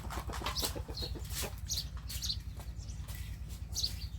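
Chickens cluck in short, scattered bursts over a steady low background hum, at moderate distance and with no one speaking.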